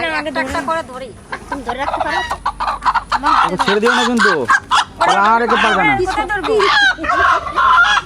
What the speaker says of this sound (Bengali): এই মুরগিগুলো তো রাতের বেলায় দুটো ধরা পড়েছে লাঠি দিয়ে